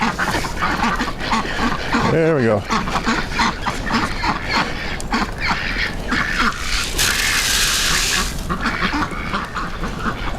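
Ducks at a farm feeder quack loudly and continuously in a busy, close flock, with rustling and movement around them and a brief spoken remark partway through.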